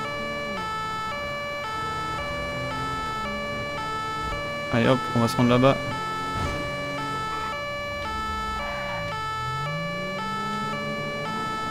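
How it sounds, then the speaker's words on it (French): Police car sirens wail in GTA 5 during a night patrol in an Audi A4 police car, a steady rising and falling electronic siren with someone briefly speaking over it. "On va mettre les sirènes vite fait là,"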